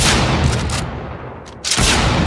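Loud, close gunfire from the video game Project Stray, a dense rattling burst that briefly eases and then resumes with equal force, with no talk over it.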